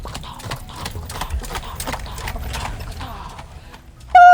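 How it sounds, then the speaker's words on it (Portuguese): Horse hooves clip-clop in a steady run of sharp, even knocks, loud and close, as a rider sets off for Damascus, followed by a sudden bright rising tone at the end. "Ele subiu em seu cavalo e foi para Damasco."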